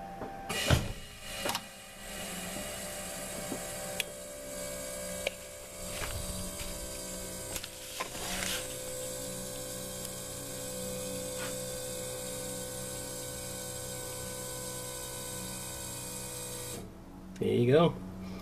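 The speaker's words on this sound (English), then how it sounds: "I'm going to go and turn on the key, which will activate the pump" A Leed electric vacuum pump for a car brake booster runs with a steady, low mechanical hum and faint tonal whine, with brief voices and a short clunk near the end.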